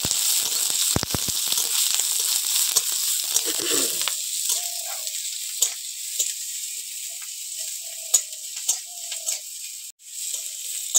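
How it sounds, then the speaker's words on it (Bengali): Onion and green chilli sizzle steadily in hot oil in a home kitchen, a continuous bright frying hiss with a few soft stirring scrapes and clicks near the start, no voices. "পেঁয়াজ আর কাঁচা লঙ্কাটা একটু ভেজে নেবো"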